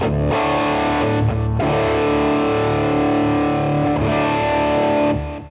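Electric guitar played through a hand-built BK Butler Tube Driver clone overdrive pedal with volume and tone fully open, loud sustained distorted chords struck a few times and left ringing, no voices.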